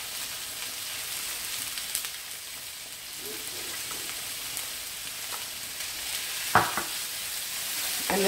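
Chopped onion and chorizo frying in oil, a soft steady sizzle with a few scrapes and knocks as the pan is stirred, fairly quiet and close.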